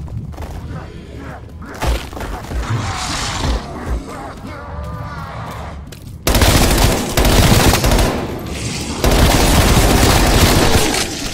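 Submachine-gun fire in Call of Duty: Black Ops Cold War Zombies crackles in rapid bursts, quieter at first and then loud and dense, with impacts and thuds mixed in and game voices underneath.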